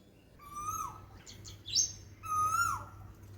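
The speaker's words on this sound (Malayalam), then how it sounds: "കുയിലും മൈനയുമെല്ലാം പാടുന്നതും കൂട്ടുകാർ കേൾക്കാതിരിക്കില്ല" Koel and myna birds calling, with two clear whistled notes separated by quick chirps, fairly soft against a quiet background.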